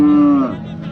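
A single loud, close cow moo at a livestock bazaar in Beshariq, with a steady tone that fades after about half a second into low market background noise.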